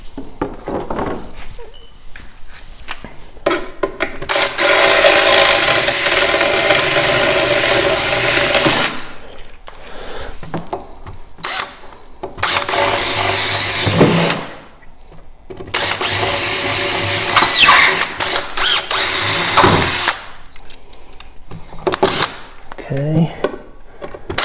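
A power drill bores out rivets on a Polaris RMK snowmobile during a front bumper install, sounding as loud whining bursts of several seconds each with short pauses between them, close to the listener.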